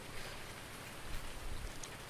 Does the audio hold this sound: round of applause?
no